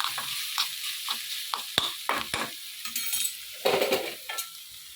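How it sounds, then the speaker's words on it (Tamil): Grated carrot sautés in a pan, a hissing sizzle punctuated by sharp metallic spatula taps and scrapes against the pan, close and moderately loud, no one speaking. "கேரட்டை துருவிட்டேன். இதை நல்லா வதக்கிக்கலாம்"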